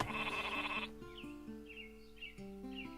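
Sheep bleats in the Northgard strategy game, several wavering calls in a row, fairly faint and alone with no talk.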